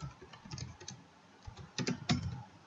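Keys clatter on a computer keyboard in quick, uneven bursts, close up, with a denser run of louder strokes near the end.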